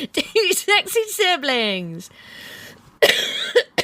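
A short, harsh cough bursts out among lively voices, with people talking before and after it.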